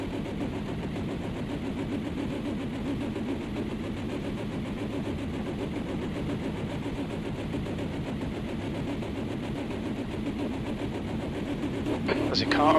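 Car engine in a racing video game cranking and trying to start up, a steady mid-pitched churning rumble that swells slightly near the end, with a brief higher mechanical rattle at the close.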